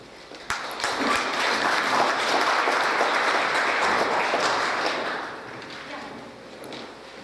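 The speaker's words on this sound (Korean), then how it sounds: "박수." An audience breaks into loud, sustained applause, many hands clapping together before it gradually fades out toward the end.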